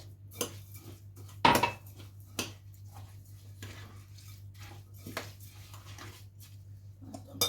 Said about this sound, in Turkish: Hepsini güzelce karıştırıyorum.